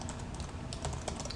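Computer keyboard keys are pressed in a quick run of soft, close clicks while someone works in a browser console.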